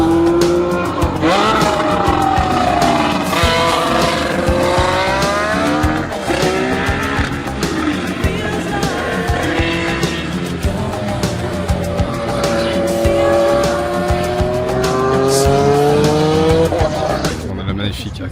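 Formula 1 race car at a Renault track event, its engine roaring loud and close, pitch sweeping up and down repeatedly through gear changes for the whole stretch.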